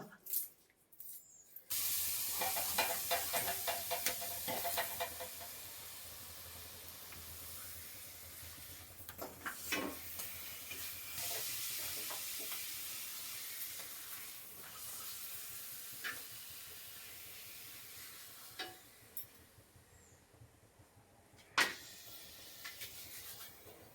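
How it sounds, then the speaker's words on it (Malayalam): Jackfruit pieces frying in a pan of oil make a loud, steady hissing sizzle that starts abruptly and carries on with occasional clinks and pops nearby. "ചക്ക വറുക്കുകയാണ്"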